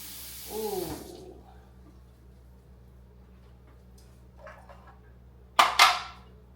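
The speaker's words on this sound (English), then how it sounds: "we need to rinse this cilantro off right quick" Cilantro rinsed under a running kitchen tap: a short gush of water at the start, a quiet stretch, then a louder, splashier burst near the end.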